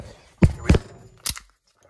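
A can of Fancy Feast grilled chicken in gravy cat food is cracked open at close range, giving three sharp, crunchy snaps in quick succession, then quiet.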